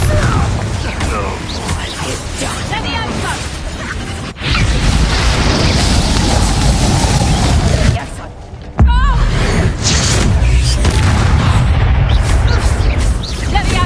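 Repeated Confringo explosive spell blasts in Hogwarts Legacy, loud booming bursts and crashing debris across a busy fight, with a voice shouting spell names throughout.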